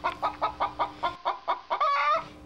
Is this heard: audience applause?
no